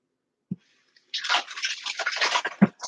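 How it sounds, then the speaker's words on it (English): Hands rinsed under running water at a kitchen sink while chowder is being made: a short knock, then about a second and a half of steady splashing water that ends with a small thud. "Let me rinse my hands."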